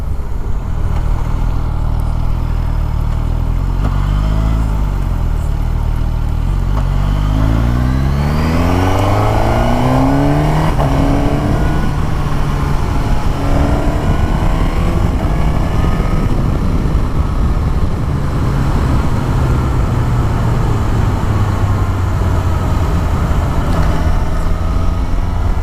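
A Suzuki Katana inline-four motorcycle engine idles, then revs up in a rising sweep and holds a high, steady drone before slowly settling, loud and close with no talking.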